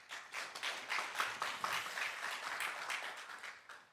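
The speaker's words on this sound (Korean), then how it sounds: "여러분 먼저 박수 한번 하겠습니다" Dense audience applause fills a university chapel service as a rural church pastor is welcomed as guest speaker. The clapping is steady and close throughout, then thins out at the end.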